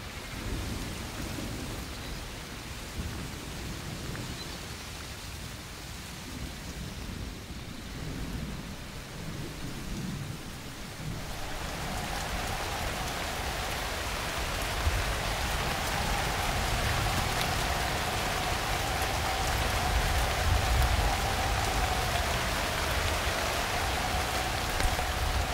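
Heavy monsoon rain pours steadily in northern Australia's wet season, a dense roaring wash that grows louder midway, with low thunder rumbling underneath and no voices.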